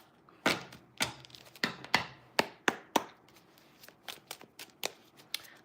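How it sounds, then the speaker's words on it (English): A deck of yes-or-no tarot cards being shuffled by hand, with a dozen or so sharp riffling bursts at an uneven rhythm, close and fairly loud, with no talking. "we're going to pull out the yes or no cards"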